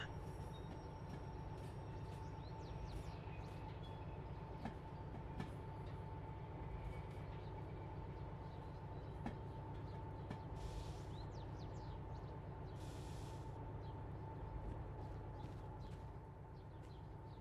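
A train in a train video game runs with a steady, continuous rumble and a sustained mechanical hum, holding an even loudness throughout with faint clicks and rattles on top.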